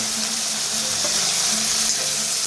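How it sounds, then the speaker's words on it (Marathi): Curry leaves and tomato fry in a pan for sabudana khichdi, making a steady, close hissing sizzle with a faint stir or clink partway through, alone without talk. "त्याला फ्राय करून घ्या छान"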